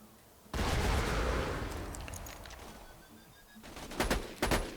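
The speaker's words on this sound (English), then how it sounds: "Grenade out." Grenade blast in Borderlands thrown by Zer0: a sudden loud burst that rumbles and decays over a few seconds, followed by sharp gunfire cracks near the end.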